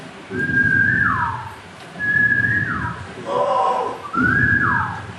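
A person whistles four rising-and-falling calls in imitation of a cuckoo (koel) at dawn, each phrase sliding down in pitch, with a steady low rumble of background noise underneath.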